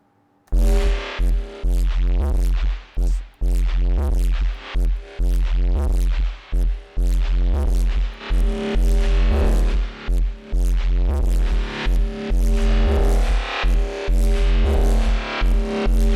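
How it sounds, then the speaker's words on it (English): Loud, driving bass with a delay sidechained to it, making rhythmic pumping pulses that duck and swell in a steady, fast pattern, no voices. "you've got these kind of like rhythmic, kind of crazy pulses going on"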